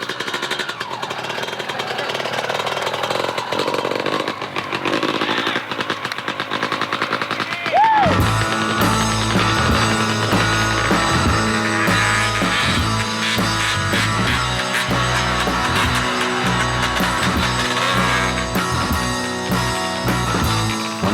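A dirt bike engine runs loud and close with a rapid, rattling, machine-gun-like putter that keeps revving up and down, after a stretch of rough, broadband rushing noise.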